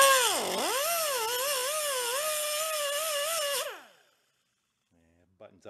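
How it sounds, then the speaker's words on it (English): A cutting wheel screams against the metal of an old scrapyard Harley cart transaxle, its pitch dipping and wavering as it bites, then winding down and stopping, followed by faint quiet clatter. "How about a little bit of cutting wheel action?"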